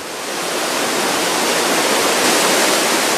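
Heavy water rushes and roars into the upper holding tank of a water park wave pool in a steady, dense wash, loud and continuous with no pauses.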